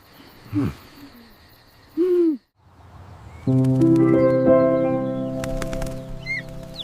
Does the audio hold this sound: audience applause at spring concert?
no